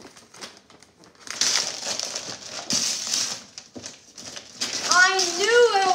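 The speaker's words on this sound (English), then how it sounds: "I'm gonna unwrap it." Christmas wrapping paper torn in rough bursts as a present is unwrapped, mixed with children's excited chatter and a whistling toy sound near the end.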